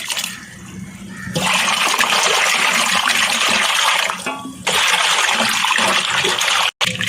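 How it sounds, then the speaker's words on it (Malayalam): Water gushes steadily and loudly, as if from a running tap, while mussels are washed, briefly easing off midway before surging again, with a short break near the end. "നമുക്കിതൊന്ന് ചെറുതായിട്ട് കഴുകിയെടുക്കാം"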